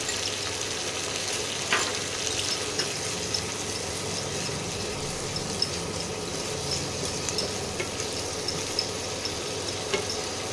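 Ginger-garlic paste and a splash of water hissing in a hot pan, a steady moderate sizzle with faint occasional clinks, close up and with no voices.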